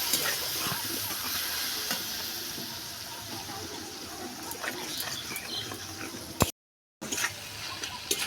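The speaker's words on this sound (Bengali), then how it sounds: "একটু ভেজে নেব মশলাটা যাতে না পুড়ে যায় অল্প জল দিয়ে দেবো দিয়ে একটু ভালো করে কষে নেব" Masala frying in a pan with a little water for a paneer curd curry, a steady close hiss and bubbling with faint stirring, briefly cut to silence near the end.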